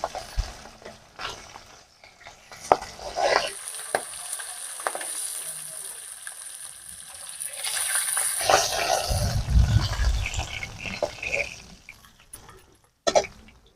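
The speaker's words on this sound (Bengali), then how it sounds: "এখনো ফেটে চলেছে মাছটা ধুমধাম করে" Rithe fish from the Ganges sizzles steadily in hot oil, with sharp crackles and spattering pops that swell louder partway through. No one speaks.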